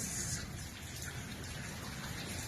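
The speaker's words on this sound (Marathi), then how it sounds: "पाऊस चालू आहे पाऊस" Rain falls steadily in a dense, even patter, a soft constant wash of drops with no talking.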